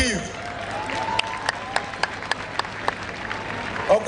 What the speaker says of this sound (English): Let's put our hands together for Okutekba.